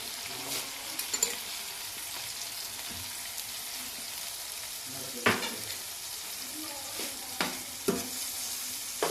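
Chicken malai boti cooks over a low flame, giving a soft continuous sizzle with occasional sharp clicks and scrapes of stirring, quiet and close throughout.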